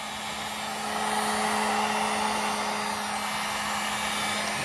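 A heat tool blows hot air across a custom shoe, a steady loud whoosh that starts softly and rises, then holds without a break, close to the microphone and alone.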